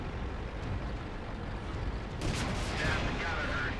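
Tank cannon fire in World of Tanks gameplay, a dense rumbling roar that swells into a louder blast as an enemy tank explodes, with heavy noise lingering afterward.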